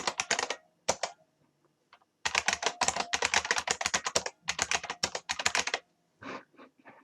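Rapid bursts of keystrokes on a computer keyboard while filling out a web form, close and clear, with short pauses between runs of typing.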